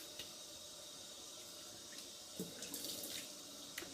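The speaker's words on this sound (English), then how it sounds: "I'm gonna put hot water on my face." Hot tap water runs and splashes into a sink as it is cupped onto a face before shaving, a steady faint rush with a few small splashes and drips.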